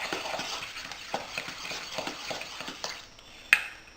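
Wet ingredients for banana berry yogurt bread being stirred in a bowl, a steady series of soft scraping and clinking utensil strokes, close and moderately loud, ending with a sharper clink.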